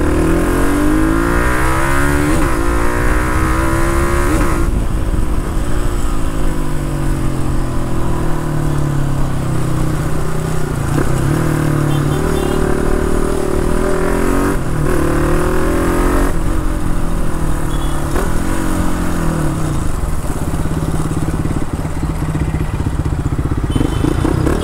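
A Hero XPulse motorcycle fitted with a QuickShift full system exhaust revs hard and pulls through the gears, a loud, continuous engine roar with repeated rising sweeps and shift breaks, close up and alone.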